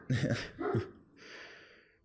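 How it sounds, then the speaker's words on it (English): A big German Shepherd barks twice in quick succession close by indoors, followed by a softer breathy sound, with no talk over it. "It's a dog barking."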